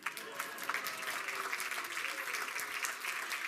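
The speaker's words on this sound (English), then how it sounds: "I love milking the applause" Audience in a rotunda applauds a two-hand yo-yo trick, a bright, dense burst of clapping that stays fairly loud and steady across the whole stretch, with a voice faintly mixed in.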